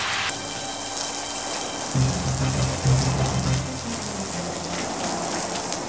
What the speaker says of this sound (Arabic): ياه دي بتشتي قوي